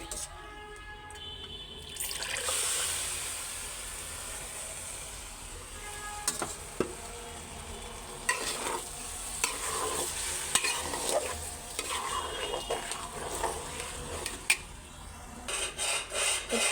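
Liquid is poured into a sizzling pan of biryani rice, then a spoon scrapes and stirs in irregular bursts, close and fairly loud, with no one speaking.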